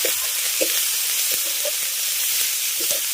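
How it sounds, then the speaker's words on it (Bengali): Masala with turmeric and chili powder sautéing for a fish curry, a loud constant hissing sizzle with soft intermittent stirring scrapes and knocks, no voices. "এবার মশলাটাকে খুব ভালো করে কষিয়ে নেব"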